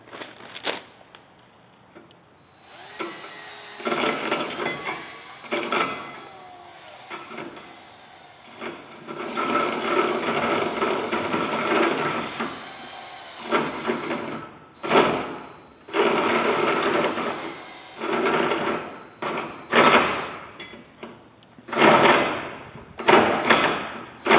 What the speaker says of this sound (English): Hoping this drill won't walk all over the place.